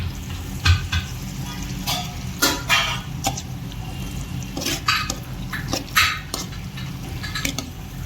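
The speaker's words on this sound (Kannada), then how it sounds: "ಪಾಸ್ತಾ ಆಗೈತಿ, ಈಗ ಮಿಕ್ಸ್ ಆಗೈತಿ" Pasta sizzles as it is stirred and mixed in a hot pan, with repeated close scrapes and knocks of a utensil against the pan over a continuous frying hiss.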